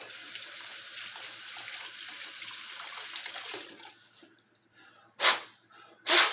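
Tap water runs steadily as grease is rinsed off a bicycle bearing cage, a close splashing rush that stops midway, followed by two short loud bursts of spray.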